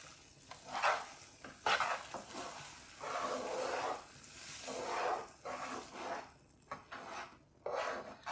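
Sugar syrup poured over chickpeas cooking in a pan, soft bursts of sizzling and stirring clatter in uneven waves, quiet and close with no talking.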